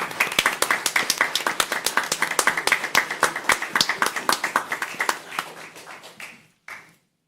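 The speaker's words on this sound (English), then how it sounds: "So if you would all join me by rising to give him a round of applause" An audience at a city government meeting claps in a dense round of applause that carries on steadily and then tapers off into a few last claps.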